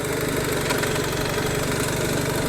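A BMW R 1300 GS motorcycle's engine runs at about 1500 rpm in sixth gear, giving a steady, close, pulsing drone with a slight knock and vibration amid wind, with no talk.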